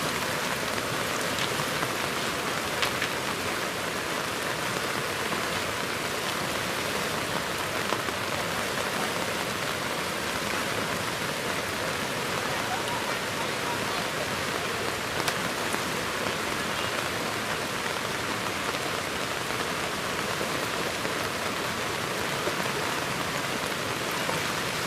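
Steady rain during the monsoon falls over a flooding stream that has spread into a settlement, a dense continuous hiss of drops on surfaces with rushing water beneath, even and unbroken throughout with no voices.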